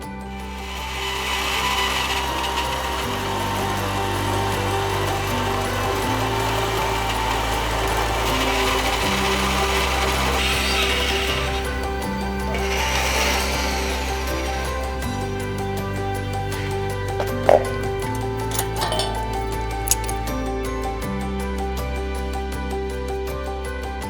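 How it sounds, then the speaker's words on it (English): A saw cuts through material held in a wing nut saw guide clamp, producing a continuous rasping, droning cut sound close by with shifting tone and a few sharp clicks near the end. "you will be able to see the saw guide go on and then a cut being made"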